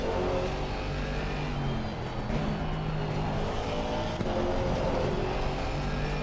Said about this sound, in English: It'll be fun to listen to this lovely V8 note for 4 hours.